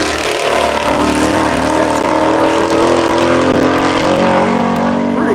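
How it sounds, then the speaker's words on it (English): Race cars at a Tire Rack One Lap of America track event, HP Tuners Supra among them, roar past in a steady, loud engine drone with layered revving and no pause across the stretch. "but Randy is also tightening up that gap to the HP Tuners Supra."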